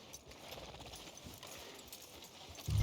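Horse hooves clip-clop at a steady walking pace in a Red Dead Redemption 2 town street, a continuous soft rhythmic patter at moderate distance with no talk over it.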